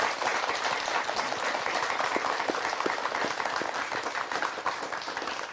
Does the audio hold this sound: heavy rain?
no